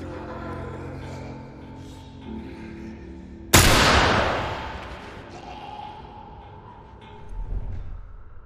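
A single sharp, loud gunshot rings out in The Last of Us game, a sudden broadband crack at mid-clip followed by a decaying echo, over steady game ambience and music.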